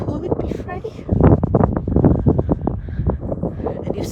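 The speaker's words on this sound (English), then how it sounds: "Sorry about the wind, guys, it's really picked up." Strong outdoor wind buffets the microphone in steady, loud rumbling gusts among sunflower fields, and someone talks over the noise throughout.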